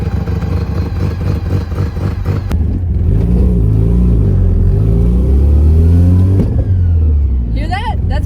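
A Mazda RX-7 drives with its differential lock engaged, the engine droning loud and steady and rising in pitch near the end. The sound is close and continuous.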